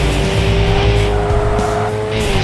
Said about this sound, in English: Slammed into wall like loony.